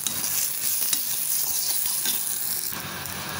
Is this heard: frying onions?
yes